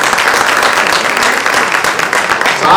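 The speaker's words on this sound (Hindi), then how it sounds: "जोरदार तालियां आयुषी के लिए।" A theatre audience gives loud, sustained applause for an actress during the cast introductions of the stage play Pagla Ghoda, with dense, steady clapping filling the hall throughout.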